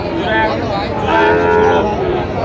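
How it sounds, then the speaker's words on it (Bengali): Sahiwal cattle lowing in long, drawn-out moos, close and loud, one call running into the next over steady background noise. "গরুগুলো দুইটাই সাইওয়াল ব্রিডের গরু"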